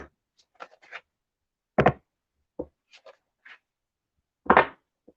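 Tarot cards handled at a table, a few sparse scraping and tapping sounds of cards being shuffled and drawn, close and quiet with silent gaps between.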